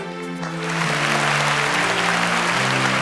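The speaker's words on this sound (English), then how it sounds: "A round of applause for them." A round of applause from a studio audience on a Nigerian youth competition show, rising quickly into dense steady clapping with a faint tonal sound lingering underneath at the start.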